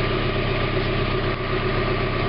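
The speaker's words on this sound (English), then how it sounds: "Alright, I got it running now, in case you can't hear it." A 1991 Mazda Miata MX-5 engine idles steadily after a catalytic converter replacement, a close, even, low rumble with a regular pulsing beat and no voices.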